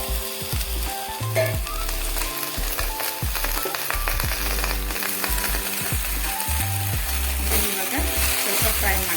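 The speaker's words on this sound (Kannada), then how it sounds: "ಕಟ್ ಮಾಡಿ ತೊಳೆದಿಟ್ಕೊಂಡಿರೋ ಒಂದೆಲಗನ ಸೇರಿಸ್ತಾ ಇದ್ದೀನಿ." Chopped onion and pennywort fry in a pan with a steady close sizzle, broken by rhythmic scraping and knocking as a utensil stirs, and no talk.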